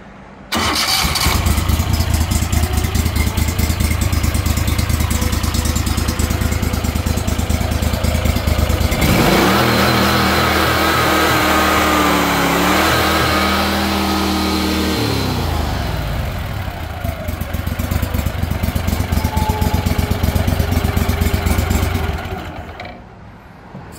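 A Gator Tail 40 mud motor outboard starts up and idles loudly at close range, then revs up in one sustained climb and eases back down to a steady running idle until it shuts off.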